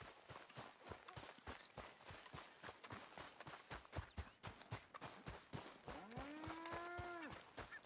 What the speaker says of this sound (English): And we have cows?